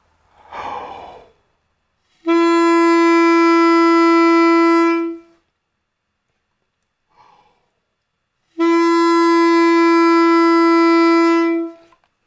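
Two long, steady tenor saxophone notes, each held about three seconds, with audible breaths before them and silence between.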